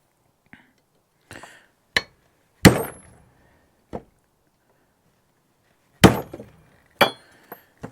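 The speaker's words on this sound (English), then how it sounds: "make a dent in it with a hammer." A hammer strikes a metal roll-up door on a sawmill shed, leaving dents: several loud, close, ringing metallic bangs spaced irregularly with quiet gaps between, plus a few lighter taps.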